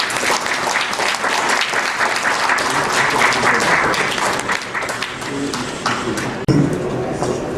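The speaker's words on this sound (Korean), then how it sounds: "여러분 이충근 박사님 나오실 때 뜨거운 박수로 환영해 주시고요" Audience applause welcoming a lecturer to a New Year special lecture, dense sustained clapping from a large crowd in a hall, steady throughout and tapering slightly near the end.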